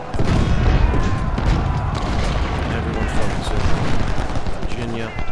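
Dense rifle gunfire and booming battle noise from Ultimate General: Civil War at the First Battle of Bull Run, loud and continuous throughout with volleys layered over a rumbling low end, a voice speaking over it.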